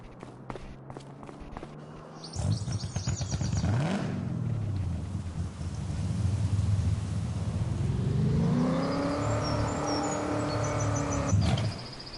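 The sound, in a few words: vehicle engine revving high in Farming Simulator 25 video game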